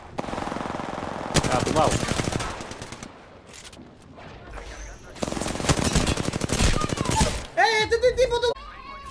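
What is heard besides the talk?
R-301 rifle gunfire in the video game Apex Legends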